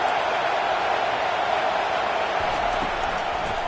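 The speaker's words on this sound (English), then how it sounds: "this crowd bringing the energy and noise early." Stadium crowd at a Texas football game, a steady, dense roar of many voices filling the whole stretch at constant loudness, with no single voice standing out.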